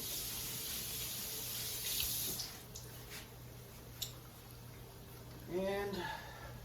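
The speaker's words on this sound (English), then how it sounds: "I'm just going to wash my hands a little bit because I got that stuff all over the eggs" Kitchen sink tap running as hands are washed mid-cooking, a soft steady hiss of water for a couple of seconds that then quiets, with a faint brief voice near the end.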